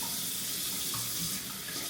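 Water running steadily from a tap, a continuous close hiss and splash with no pauses or voices, at home during a cold Texas winter.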